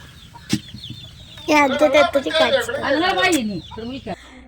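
Two chickens sitting together inside a container cluck and squawk in a busy burst, loud and close, with a brief sharp call just before.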